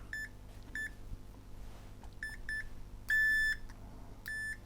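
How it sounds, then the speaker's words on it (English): A multimeter set to continuity gives short electronic beeps, several quick chirps and then two longer tones, close and fairly quiet while a wire is tested in an AV receiver repair. "If we bring in my meter on continuity again."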